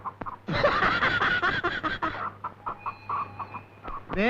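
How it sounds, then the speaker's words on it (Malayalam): A chicken clucks and squawks loudly up close, a burst of agitated calls followed by shorter repeated clucks. "ഇത് കാശ് കൊടുത്ത് മേടിച്ച കോഴിയാണ് കേട്ടാ"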